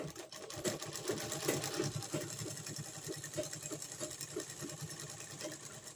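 A sewing machine runs steadily, stitching a folded four-inch cloth edge for a front pocket, its fast rhythmic needle chatter continuous and close for the whole stretch with no talk.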